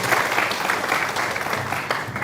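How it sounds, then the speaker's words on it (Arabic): A studio audience claps steadily and warmly for a young Egyptian Quran reciter at the Mazamir Dawood international competition, a dense sustained round of applause filling the whole moment. "يلا صفقوا عليه"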